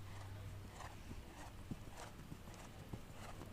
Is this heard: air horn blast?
no